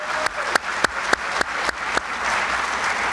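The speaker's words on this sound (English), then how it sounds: "a round of applause for our staff once again" Applause from the audience at the Boone Area Chamber of Commerce annual membership meeting, a sustained wash of clapping punctuated by several sharp, louder claps at roughly regular intervals, with no voices.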